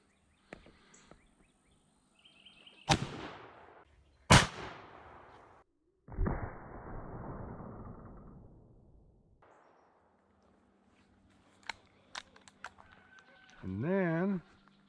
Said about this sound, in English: we're going to shoot the subsonic bullet up first and see what it does